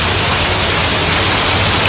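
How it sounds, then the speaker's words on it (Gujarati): Heavy monsoon rain pours down in Waghai, Dang, Gujarat as a dense, loud, unbroken hiss of falling water with no voices. "આવો ને આવો ધોધમાર વરસાદ આવવાનો ચાલુ જ થઈ ગયેલો છે"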